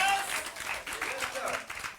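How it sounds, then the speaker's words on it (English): A Pentecostal church congregation claps in a faint, scattered burst of applause lasting a couple of seconds, with voices mixed in. "give God a hand clap"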